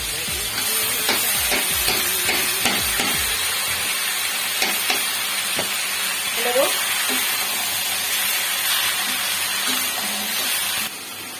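Chopped Malabar spinach (pui shak) goes into a hot pan and fries with a steady hiss and crackle, preceded by a few clattering knocks of utensils against the pan.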